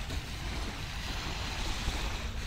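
Soft, steady wash of surf on a white-sand beach at low tide, with gusting wind across the microphone, no voices, a low continuous rumble throughout.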